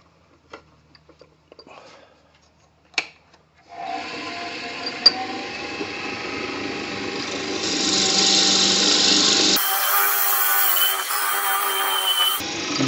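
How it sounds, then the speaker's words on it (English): A drill bores through a segmented pen blank with a 13/32 bit, starting with a few light clicks and taps before a steady whirring grind sets in and runs continuously, rising in pitch toward the end, close and alone. "Again, I start from the middle and drill outward."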